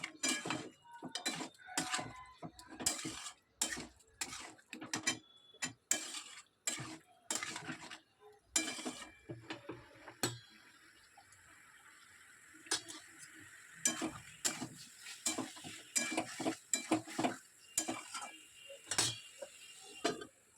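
A utensil stirs and sears jackfruit, chicken and potato curry with spices in a pot, making irregular scrapes and metallic clinks. The clinks are dense at first, pause briefly, then pick up again at a steady pace.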